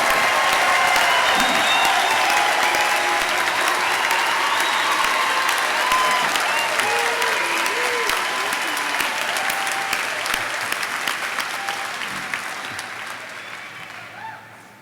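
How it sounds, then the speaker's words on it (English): A graduation-commencement audience gives a long, dense round of applause for the graduates, steady and loud for most of the stretch before thinning and fading toward the end; a faint cheer rises within the clapping. "Let's give our graduates a big round of applause"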